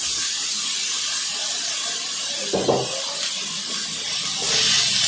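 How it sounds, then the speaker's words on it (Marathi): Beetroot sautés in a pan for mixed vegetable cutlets, a loud steady hiss of frying with a soft thump partway through as the vegetable goes in and no talk. "आता यामध्ये बीट घालायचं आहे."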